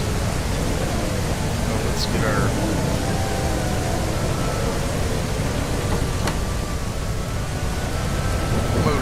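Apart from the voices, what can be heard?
stormy weather, rain, in the video game Teddy's Haven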